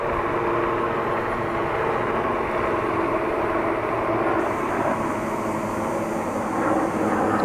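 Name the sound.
helicopters flying overhead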